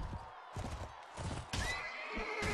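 A horse in the video game Mount & Blade: Warband whinnies loudly and repeatedly over a busy battle soundscape, with hoof clip-clops and scattered in-game noise running underneath.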